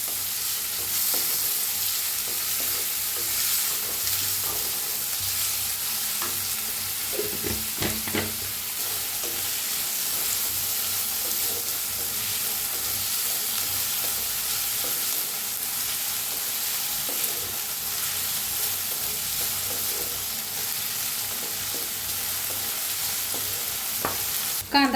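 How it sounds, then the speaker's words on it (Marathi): Onions frying in a pan for a radish vegetable dish, a steady close sizzle running throughout with occasional spatula scrapes and stirring knocks, no one speaking. "कांदा चांगला भाजायचा।"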